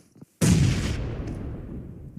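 A grenade bursts in PUBG Mobile with a sudden heavy boom after a brief quiet moment, then rumbles and fades over the next two seconds.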